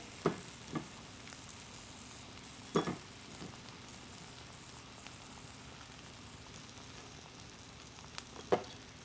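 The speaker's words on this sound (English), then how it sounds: "I'm gonna add in my ham to one side." Ham fries in a pan over low heat, giving a soft, steady sizzle with a few light clinks and scrapes scattered through.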